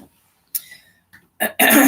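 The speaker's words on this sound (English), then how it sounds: "I can't stop coughing" A person gives a few short, close coughs, quiet at first and then two louder bursts, with a harsh throat-clearing cough at the end.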